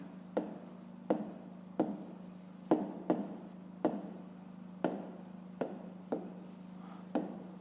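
A pen writes numbers while working a fifth-grade math exercise, making close, scratchy strokes in short bursts, each starting with a sharp tap against the paper, repeated about a dozen times over a low steady hum.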